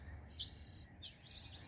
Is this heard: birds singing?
yes